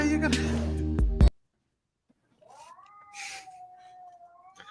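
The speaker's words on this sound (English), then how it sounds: "Do you hear the cats going at it?" Cats fighting outdoors let out a long, wavering, drawn-out yowl that rises and holds, heard alone after a burst of earlier talk and clatter falls silent.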